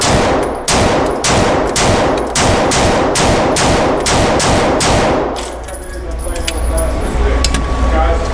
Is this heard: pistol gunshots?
yes